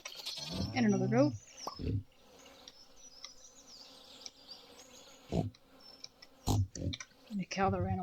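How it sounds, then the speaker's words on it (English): Several goat bleats from the farm animals in Stardew Valley, short wavering cries near the start and again toward the end, separated by quieter stretches with faint background chatter. "And another goat."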